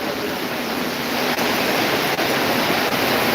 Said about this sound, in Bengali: আবার প্রচুর প্রচুর দ্বারা বৃষ্টি শুরু হয়ে গেছে উপরে টিনের চাল